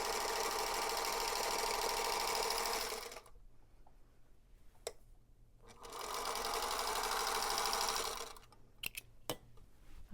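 A sewing machine stitches along a line on a quilted, washable design board, running in two long steady bursts of fast rattling with a quiet gap and a few clicks between.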